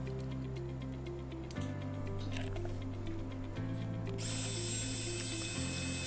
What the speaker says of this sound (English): when putting in your screws, tighten them just the right bit to avoid ruining the threads